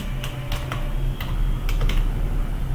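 Fingers tap quickly on a computer keyboard while a document is being typed, a close run of sharp uneven clicks over a low steady hum, with no one speaking.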